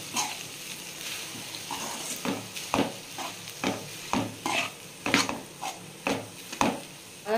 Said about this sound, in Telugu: ఇప్పుడు ఇదంతా ఇందులో కలిసే వరకు బాగా కలుపుకుందాం.